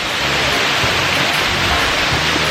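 Nojoqui Falls running full after days of heavy rain, a dense, steady roar of falling water that stays loud and constant throughout, with no voices.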